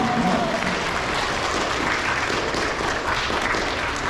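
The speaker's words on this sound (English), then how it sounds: "Let's give them a round of applause for perfect attendance." A crowd applauds students for perfect attendance at an elementary school awards ceremony, a steady wash of clapping that holds evenly for several seconds.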